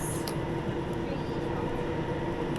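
Steady, loud rumble inside a moving MRT metro train in Taiwan, a continuous drone of wheels and motors with no breaks.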